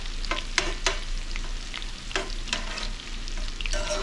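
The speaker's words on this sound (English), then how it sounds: "Throw our green onions in." Green onions sizzle in hot garlic oil in a pan, a steady crackling fry with occasional light stirring clicks, close and alone without talk.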